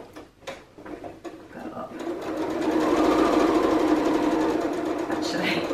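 A sewing machine runs a fast, steady stitching whir while sewing a Dylan jacket, starting after a few clicks and a brief spoken remark, then humming on continuously and close by.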